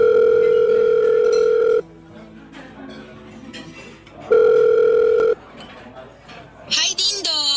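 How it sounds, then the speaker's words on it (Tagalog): A landline dial tone hums steadily as a phone call is placed, cutting out into quieter room noise and returning again, followed by brief high dialing chirps near the end. "Teka, tatawagan ko siya."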